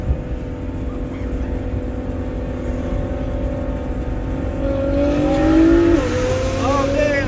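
Nissan GTR and Audi R8 supercars race on a road, engines droning steadily close by and swelling into a louder rev near the end, with voices talking over it.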